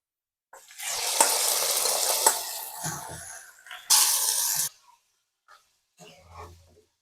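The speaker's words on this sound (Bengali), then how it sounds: "আমার ফোরনটা রেডি হয়ে গেছে এখন মেন্দা ঢেলে দিব" Rice flour batter poured into hot oil with tempered onion and bay leaf for mende, giving a sharp hissing sizzle in bursts with brief pauses and a few soft clinks.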